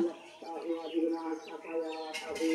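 Pigeons cooing and calling close by, a series of soft warbling notes with a brief rustle near the end.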